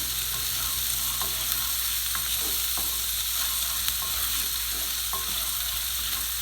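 Chopped shallot with a little garlic sautés in olive oil, giving a steady, even sizzle with occasional faint stirring taps and no talk.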